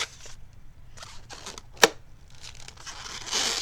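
Scissors snip through a latex twisting balloon end in one sharp, brief cut, preceded and followed by faint crinkling and rubbing of the balloon, close and quiet with no talking.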